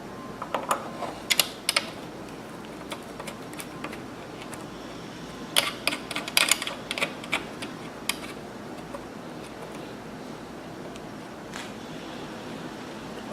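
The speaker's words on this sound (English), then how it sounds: "Now I'm going to close the DVR, put the screws back in." Screws being driven back into a DVR case with a screwdriver, giving scattered clusters of small close clicks and ticks separated by quiet pauses.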